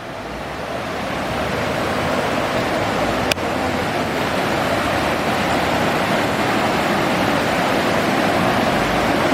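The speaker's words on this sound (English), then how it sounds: "The river is getting louder." A loud river rushes near hot spring waterfalls in a continuous, close, broadband roar that grows slightly stronger, with one brief sharp click partway through.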